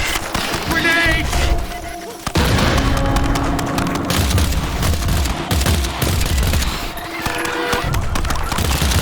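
A grenade blast in the video game EarthFall booms amid rapid gunfire, with loud, dense bursts of shooting and explosions filling the whole stretch.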